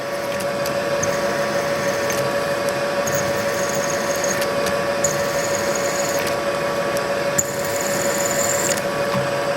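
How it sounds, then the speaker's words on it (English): A steady machine whine of a 90-degree spotting drill cutting metal runs throughout, with a constant tone and occasional faint clicks, close and continuous with no talking. "So that's a 90-degree spotting drill there."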